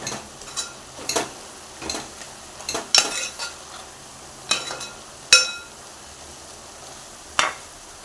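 Prawns roasting in a pan with tomato, onion, ginger, garlic and curry leaves give a soft sizzle, broken by sharp scrapes and clinks of a stirring spoon at irregular intervals, heard close with no talk.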